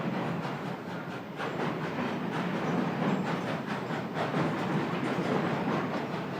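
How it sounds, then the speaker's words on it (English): A wood-burning steam train rolls along a street in Paraguay, its rhythmic clattering wheels and rail noise steady and fairly close, with hissing mixed into the continuous rumble. "Number 226 clattered down the main street, back to the yard where number 521 was waiting."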